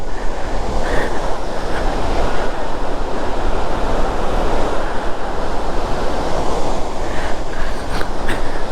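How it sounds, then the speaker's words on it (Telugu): Water roars through the open gates of Srisailam dam at night as a loud, steady, broadband rush that runs unbroken from start to finish. "డ్యామ్లో ఎన్ని గేట్లు ఓపెన్ అయ్యే వరకు నీళ్ళు పడుతున్నాయి చూడండి."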